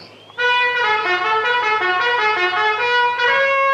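A bright brass horn blares a sustained fanfare-like call after a brief quiet moment, loud and close, holding a few shifting tones.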